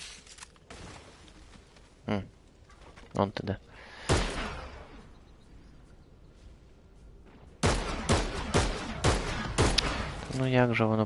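Gunfire in the Fortnite video game: sharp, loud single shots and short bursts of fire, sparse at first and then denser toward the end, with someone talking between and over them.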